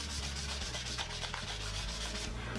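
Treated hardwood being hand-sanded with sandpaper, a steady close, continuous scratchy rubbing with rhythmic back-and-forth strokes and no talking.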